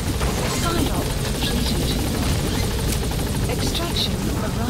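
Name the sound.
helicopter in the video game Metal Gear Solid V: The Phantom Pain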